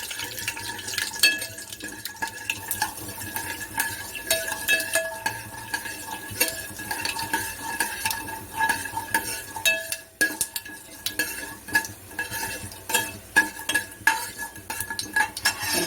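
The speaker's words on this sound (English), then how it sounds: "And after you add this fenugreek seeds, you can stir to the ladle" A metal ladle stirs fenugreek seeds in a pan over a low flame while making South Indian sambhar, with repeated scraping and clinking against the pan over a faint sizzle, continuous and close.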